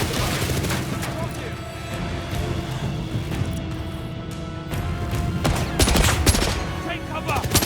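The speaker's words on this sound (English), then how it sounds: "Taking fire!" Gunfire from mercenaries in the video game 007 First Light: dense, rapid bursts and volleys of shots with booming impacts, loud and continuous, swelling near the end, with voices mixed in.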